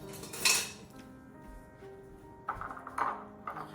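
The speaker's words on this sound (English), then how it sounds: "I think I'm gonna get my little whisk out" A small metal whisk clinks and rattles against a pot holding cream in short bursts, with a ringing ping between strokes, close and fairly quiet with no talk.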